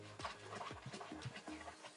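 A puppy pants and scratches around in its box, settling its bedding, with quick breathy pants and soft scuffing scrapes repeating close by for a couple of seconds.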